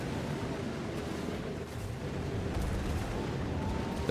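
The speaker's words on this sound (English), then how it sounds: "1, 2 explosions as KillaKoopa overtakes." Explosions in a racing video game during a tournament match, muffled booming blasts buried in a dense, steady wash of game noise, fairly faint throughout.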